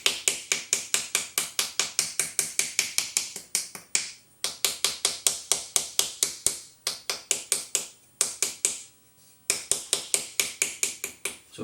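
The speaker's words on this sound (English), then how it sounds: "I've just got this little wooden stirring stick. This would work fine for a paddle. And I can actually paddle this clay" A small wooden stirring stick repeatedly paddles a clay coil vessel, producing quick, sharp, evenly spaced taps in fast runs separated by brief pauses, close and crisp with no talking.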